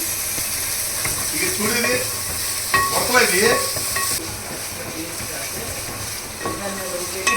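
Two tablespoons of ginger garlic paste frying in a pan for a curry, a constant close sizzling hiss with bursts of stirring and scraping, some faint speech underneath.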